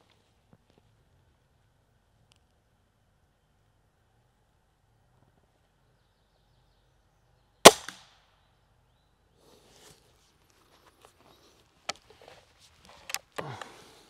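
A Gamo Shadow IGT 24J air rifle fires at a small target: a sharp, loud crack after a long quiet stretch, then a few more crisp shots close together near the end.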